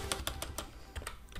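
Close keystrokes on a computer keyboard, about eight quick clicks in an uneven burst with a brief pause midway, against a faint room hum.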